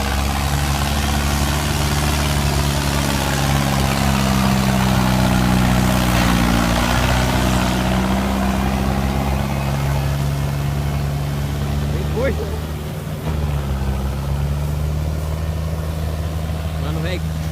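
The 1185 rice-field tractor idles with a steady, loud low rumble close by, its engine note dipping briefly near the end.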